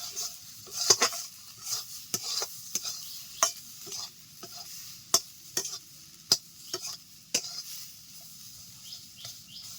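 Drumstick leaf mash (sajne shak bhorta) being stirred in a pan, a soft steady sizzle broken by irregular sharp scrapes and taps of the spatula against the metal, close up, with no one speaking.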